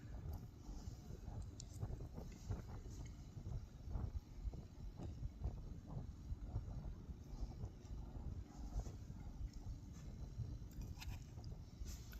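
Wind gusts across a lakeside campsite, a constant low rumble buffeting the microphone with occasional faint rustles, steady and fairly quiet throughout with no speech.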